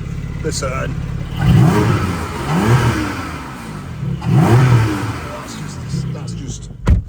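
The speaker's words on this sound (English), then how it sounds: "We've got your sports exhaust, which just oof. Listen." A Porsche 718 Cayman GTS coupe with a petrol engine, PDK gearbox and sports exhaust revs repeatedly, each blip rising and falling in a close, loud burst, with a person speaking over it.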